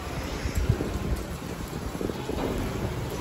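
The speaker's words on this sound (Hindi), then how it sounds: "तिरछी बारिश आ रही है" Heavy slanting rain pours down near a house, a dense, continuous roar of water hitting surfaces, close and loud with no pauses.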